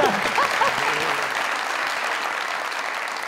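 A studio audience at a comedy talk show claps steadily, a dense wash of applause; a voice speaks briefly over it at the start before the clapping carries on alone.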